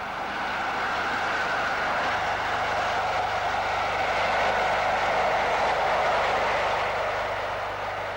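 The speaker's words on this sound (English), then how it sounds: "Sir William Stanier races south under newly erected wires with a Glasgow to London special" Steam locomotive Sir William Stanier racing south under newly erected overhead wires near Tamworth in 1963, hauling a Glasgow to London special: a steady, loud rushing roar of the passing train holding for the whole stretch, with no voices.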